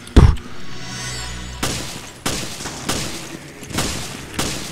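Gunshots in Resident Evil Revelations: a loud opening blast followed by five evenly spaced single shots, each sharp and close with a short echoing tail.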